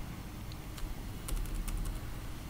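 Several quiet, sharp clicks of keys on a computer keyboard, including a press of the Enter key, spaced irregularly against a soft room hum with no talking.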